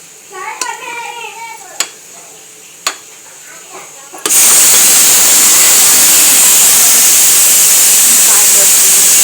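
After a few seconds of people talking, water starts gushing into a vessel for cooking rice, a loud, close, steady rushing hiss that continues unbroken to the end.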